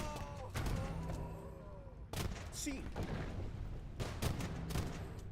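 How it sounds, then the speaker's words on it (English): Cannon fire during a real-time strategy battle, heard as several heavy booming blasts, one at the start and others around the middle and near the end, over a steady din of game combat. "Ooh, this cannon is all missed."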